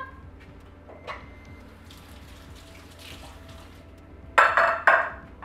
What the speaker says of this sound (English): make sure to wash your apples first